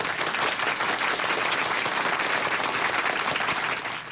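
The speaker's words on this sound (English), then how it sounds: "Please join me in giving them a round of applause." Dense, loud applause from a large crowd at an Odyssey of the Mind regional awards ceremony, a continuous wash of clapping that holds steady for about four seconds before easing slightly.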